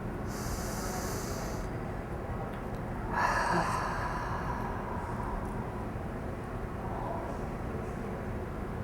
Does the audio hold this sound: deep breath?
yes